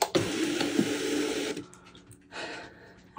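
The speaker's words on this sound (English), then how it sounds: "our machine will measure out that we have enough vinyl on our roll for our project" Cricut cutting machine loading a vinyl roll and measuring it, a close mechanical whir of motor and rollers for about a second and a half, then quieter intermittent feed noises.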